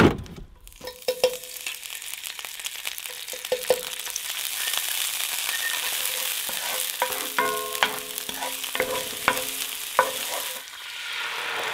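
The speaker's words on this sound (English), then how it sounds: "This is shake and bake salmon, except we're frying it." Salmon fillets coated in flour and cornmeal fry in a pan with a steady close sizzle and crackle, broken by scraping and clinking of a utensil against the pan, with no talking.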